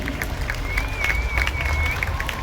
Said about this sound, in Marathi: जोरदार टाळ्या दिव्या शिंदे यांच्यासाठी